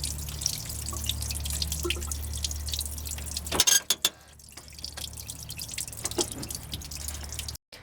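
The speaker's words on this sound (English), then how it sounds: "So I'm just draining the water at the minute" Coolant water drains from the heater system of a Mk2 Volkswagen Golf during heater matrix work, with repeated small drips and splashes over a low background hum, then a brief louder clatter midway.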